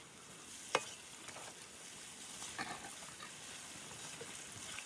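Rice tipped into a pan and stir-fried for fried rice outdoors in a forest on a winter afternoon: a steady low sizzle with a sharp scrape near the start and a few scattered stirring clatters, with no talking.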